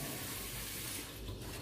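Tap water runs steadily into a kettle or pot for tea in a home kitchen during a pre-dawn Ramadan meal routine, a continuous broadband rush with no voices.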